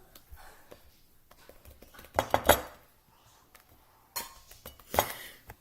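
Spoonfuls of whipped topping for a peanut butter chocolate Oreo pie scooped into a bowl: a few sharp spoon clinks against the dish in two bursts, with quiet gaps between.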